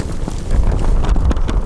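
Strong wind during a hail storm buffets the microphone in loud, rumbling gusts with irregular low thumps.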